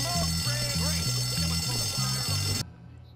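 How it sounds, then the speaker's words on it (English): A school fire alarm in the video game Bully rings loudly and steadily with a pulsing electronic tone over a low repeating music loop, then cuts off abruptly near the end. "Someone pulled a fire alarm."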